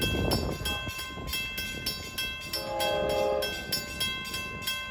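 A K5L horn on a Long Island Rail Road locomotive heading a Penn Station to Montauk train sounds in short repeated blasts over rumbling, clattering wheels and engine noise, loud and fairly close.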